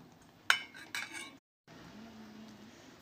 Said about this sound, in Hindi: इन सारे सामग्रियों को मिक्स करेंगे।